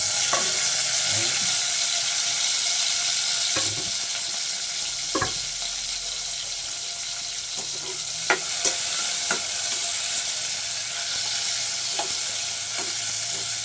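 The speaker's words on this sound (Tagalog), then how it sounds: "Siyempre ilalagay na rin natin ang kamatis." Tomatoes frying in a pan with a steady sizzle and occasional stirring scrapes and clinks, a faint watery hiss underneath, loud and close with no one speaking.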